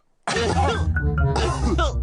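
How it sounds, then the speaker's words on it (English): Cartoon characters in a children's animated show cough and splutter, several voices overlapping in a busy, continuous stretch of harsh vocal bursts with little pause. "Oh dear, all the grown-ups have caught Pedro's cough."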